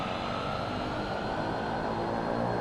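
Aircraft engines spooling up for takeoff in the flight simulator X-Plane 10, a steady loud drone with a broad roaring rumble that holds constant throughout, no voices over it.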